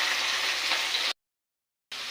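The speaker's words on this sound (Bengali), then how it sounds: "ফাইনালি মাছ ভেজে নিচ্ছি।" Fish frying in a large wok makes a steady, broad hiss of hot oil that cuts out abruptly for under a second, then resumes at the same level.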